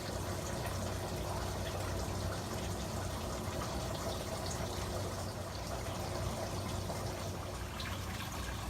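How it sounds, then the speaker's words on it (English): An air stone bubbles steadily in a 10 gallon saltwater aquarium, a constant soft fizzing, gurgling wash with no pauses and no voices. "It also has a air stone that is bubbling out of"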